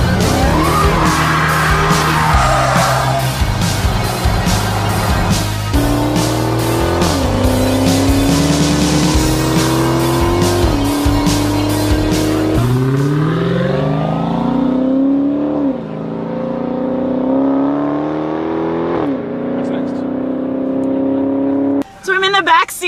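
A 2015 Dodge Charger SRT Hellcat revs hard and shifts through rising and falling engine pitches, then its tires squeal and skid in long sweeping cries, loud and heard from inside the car with people talking.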